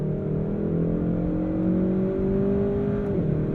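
Kia K5 GT 2022 engine revving hard under manual paddle control, a steady rising drone heard from inside the car, then a quick dip in pitch as it upshifts at 6,000 RPM near the end.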